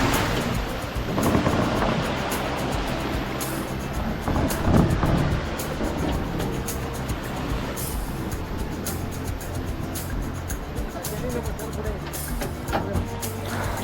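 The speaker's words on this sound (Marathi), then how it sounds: "ह्या शांततेमध्ये पाण्याचा खळखळाट अंगातली एनर्जी वाढवायला मदत करत होता." A river near a waterfall trek by an iron footbridge rushes and babbles in a dense, continuous wash of water noise, steady throughout with some wind buffeting and a faint voice underneath.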